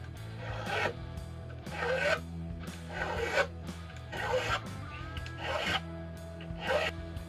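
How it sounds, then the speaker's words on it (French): Metal file working a guitar's metal fret, about seven rhythmic rasping strokes close by, each a gritty scrape separated by short pauses. "la lime, j'attaque pas le bois avec elle"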